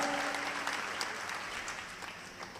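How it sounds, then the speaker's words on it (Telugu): A church congregation at a ministry service claps together, a dense, sustained wash of applause from many hands that fills the room without breaks and fades slightly toward the end, with no distinct voices. "చప్పట్లు కొట్టి గట్టిగా"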